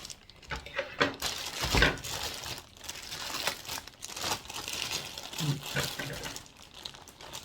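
A plastic carry bag from a Dollar Tree haul crinkles and rustles close by in irregular bursts, handled steadily for several seconds at a fairly quiet level.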